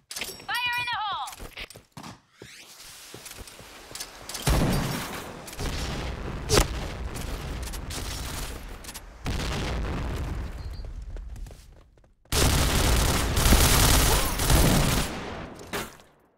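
Gunfire bursts and grenade blasts from the shooter game Point Blank crackle and boom in repeated loud waves, with shouted voices over the combat and a heavy explosion near the end.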